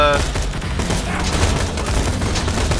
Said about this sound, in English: I'm getting shot on.